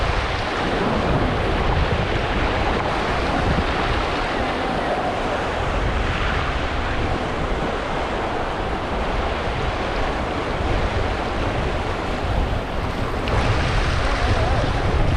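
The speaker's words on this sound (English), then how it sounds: "this is a class 2 rapid" A whitewater raft runs a class 2 rapid on the river at Ohiopyle, with steady loud rushing water and wind noise on the microphone throughout.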